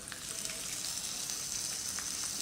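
Bacon sizzles in a frying pan with a steady, faint crackle and a few pops, alone with no voices.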